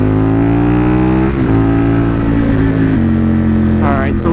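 Aprilia Tuono motorcycle riding in first gear, a loud close engine drone that climbs in pitch, drops at each shift and climbs again, with a rider's voice cutting in briefly at the end.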